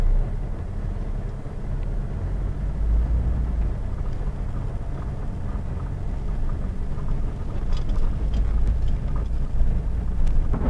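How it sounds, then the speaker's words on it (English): A car rolls along a road toward Glendale, a steady low engine and tire rumble with wind buffeting the microphone, loud and continuous throughout with no voices. "We'll drive on down to Glendale and get us some fuel"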